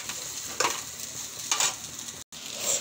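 Shredded cabbage sizzles and crackles in a pan while being cooked for homemade noodles, with steady frying hiss and two or three louder stirring scrapes and bursts, close and moderately loud, no talking.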